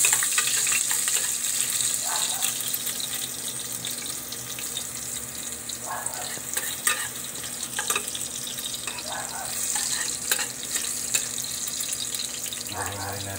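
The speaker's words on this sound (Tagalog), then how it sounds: "Ayan guys, ilagay na natin yung bawang natin." Garlic hits hot oil already holding ginger for a native chicken adobo, making a moderate frying sizzle with bursts of crackle and clatter near the pan; a voice talks faintly in the background.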